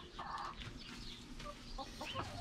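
Hens cluck softly inside a backyard chicken run, a few low, irregular calls over a steady hum of outdoor background noise, fairly faint and without talk.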